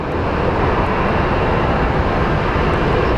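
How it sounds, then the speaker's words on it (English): A CRJ regional jet departing Phoenix Sky Harbor airport, a loud, steady, close engine roar that holds constant throughout. "So our baby CRJ is departing for Santa Fe."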